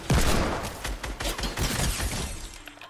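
Assault rifle fire in Fortnite: a fast, close burst of loud cracking shots with shattering impacts, thinning into scattered hits before fading out.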